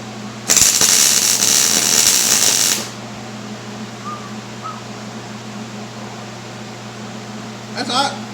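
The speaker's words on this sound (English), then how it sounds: "I'll weld that nut to it" A nut is welded onto metal, giving a loud crackling buzz that lasts about two seconds and then stops abruptly, leaving a low steady hum behind.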